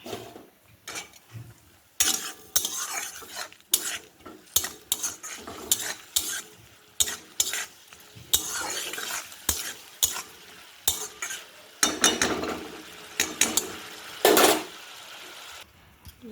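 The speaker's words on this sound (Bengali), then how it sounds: "মশলাটাকে একটু ভালো করে ভাজতে হবে" Loud sizzling of spices frying in a hot pan, broken by repeated bursts of stirring and scraping, with no voices.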